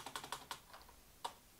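Clicky keystrokes on a Roccat ISKU gaming keyboard, about seven separate presses in a loose, uneven rhythm, close and fairly quiet with no talking.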